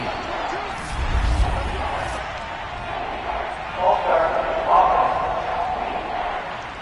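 Steady roar of a stadium crowd in an American football video game, filling the background, swelling briefly in a couple of spots, with a low thump early on.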